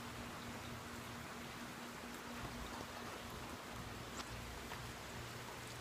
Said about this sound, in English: Sitting on the porch swing, watching it rain before I pack my stuff.